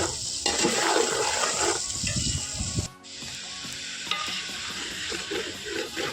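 Onions frying in a pan for a home-style chicken curry cooked on a rooftop, giving a steady, loud sizzle with stirring scrapes and a brief dip partway through.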